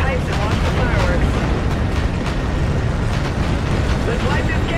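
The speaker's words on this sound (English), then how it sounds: "Visual on that tower detonation." A tower detonation explosion in Call of Duty: Infinite Warfare sounds as a loud, sustained rumbling roar with deep low-end boom and crackling debris, filling the whole stretch without pause.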